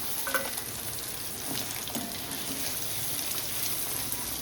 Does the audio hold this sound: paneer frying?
yes